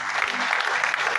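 A church congregation at a service held in a hotel claps in dense, continuous applause that fills the room for a brief moment, with faint voices mixed in.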